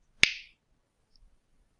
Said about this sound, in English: Now I'm gonna snap my fingers